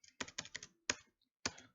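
Keys on a computer keyboard clatter in short bursts of quick, close taps with brief pauses between, while code is entered into an OCaml REPL.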